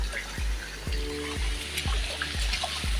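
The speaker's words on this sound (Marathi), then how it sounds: "वरतून डोंगराकडून येणारं पाणी शेतामार्गे येऊन इथनं असं वाहत आहे" Water running down from the hills and flowing through a farm field toward a stream, a steady trickling murmur with repeated low thumps that recur roughly every half second.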